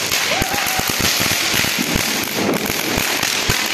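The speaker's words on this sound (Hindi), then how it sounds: "ठीक है कोई पटाखा, ये कोई बॉम्ब है क्या" Firecrackers bursting at a Diwali celebration: a rapid, irregular string of sharp, loud cracks and pops close by, crackling continuously over a dense background.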